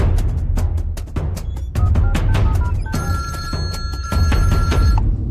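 A telephone bell rings loudly in repeated bursts, joined partway through by a steady electronic tone, with no one speaking.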